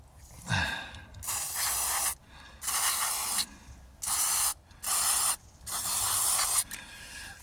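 Cleaner sprayed from an aerosol can onto a carbon-fouled throttle body of a Jaguar XKR (X100) comes as about six close, loud hissing bursts of a second or so each, split by brief pauses.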